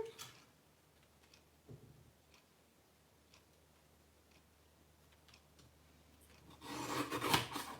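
Quiet scraping and light ticking from a paper trimmer cutting a card, faint through most of the stretch, then a louder rasping slide of the blade near the end, with no talk.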